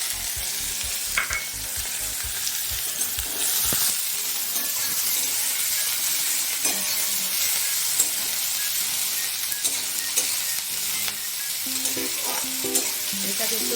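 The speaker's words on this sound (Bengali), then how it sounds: "এবার জিরের একটু ফোড়ন দিলাম, কুচনো পেঁয়াজটা দিয়ে দিলাম," Chopped onion and cumin seeds frying in hot oil, a steady close sizzle with occasional stirring clinks and scrapes in a pan, no talking.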